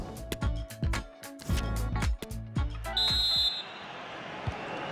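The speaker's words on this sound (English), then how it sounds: "there it is, the referee's whistle" A referee's whistle in the football video game FIFA 23 gives one short, clear blast late on, following a run of dull thumping in-game sounds.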